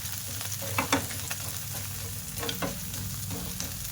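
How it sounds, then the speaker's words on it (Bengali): Chicken with ginger-garlic paste stirred and frying in hot oil, a steady sizzle broken by a few louder scrapes and clatters of the spoon against the pan. "ওর মধ্যে আমি একটু আদা রসুন বাটা দিয়ে দেব, দিয়ে তেলে একটু হালকা নাড়াচাড়া করে নেব।"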